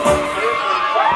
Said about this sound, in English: Now the kids cheering, it's on the tape, it's not these kids.